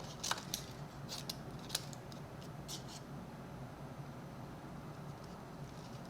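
Scissors snip out a small paper squirrel card at a craft table, giving a few faint, scattered cuts over a quiet background with no talking.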